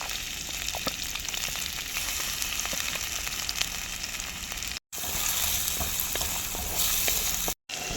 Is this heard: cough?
no